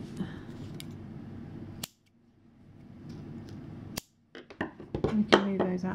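Scissors snip crochet yarn tail ends on a sunburst granny square, with a few sharp clicks of the blades amid handling noise and a brief hush between them, close up and fairly loud, then busier rustling at the end.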